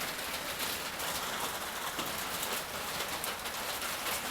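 Rain drums on a metal roof in a dense, even patter, steady throughout and fairly soft, with no voices.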